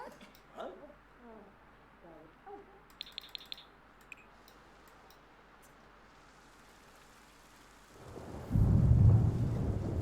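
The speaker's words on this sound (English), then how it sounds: "That is some crazy thunder." Thunder from a storm in The Sims 4 rolls in loudly near the end, a deep rumble with rain-like hiss, after quieter game ambience and a few short chimes.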